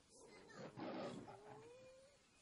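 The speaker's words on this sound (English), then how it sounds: "that's the sound of a werewolf transforming." A werewolf's transformation roar in the video game Survival Craft: one low, faint, growling roar swelling over about a second, then a thin rising howl-like tone trailing off.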